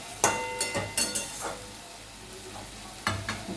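Chicken stir-fried with homemade spices, no packet masala, in a pan over lowered heat: a spatula scrapes through it in several short, close strokes, grouped in quick bursts with a pause, over a faint continuous sizzle.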